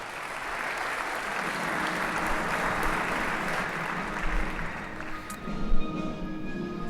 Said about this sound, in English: give Craig a massive round of applause as he comes on stage.